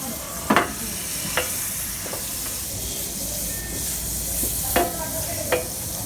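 Egg half fry sizzling on a street stall griddle, a steady soft frying hiss broken by a few sharp scraping clicks of a spatula against the metal, close by with no talk.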